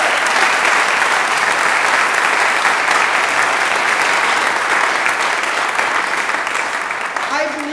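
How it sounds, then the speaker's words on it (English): Large lecture audience giving a loud, sustained round of applause, dense continuous clapping that holds steady and is briefly joined by a voice near the end. "Katie Busby and Liz Busby, please give them another round of applause."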